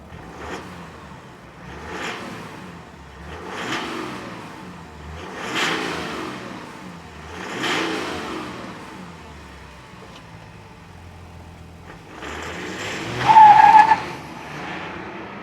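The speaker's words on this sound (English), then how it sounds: "I'm going to give you a really nice exhaust clip for this particular truck." 2023 GMC Sierra 1500 AT4 pickup truck exhaust, a series of swelling rev-like engine surges that rise and fall roughly every two seconds, then a louder burst near the end, heard alone.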